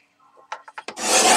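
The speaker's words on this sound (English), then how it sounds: "I still love this trimmer." A trimmer slicing through paper while making a butterfly box: a few short scraping ticks as the blade is set, then a sustained rasping cut, close and crisp, with no voices.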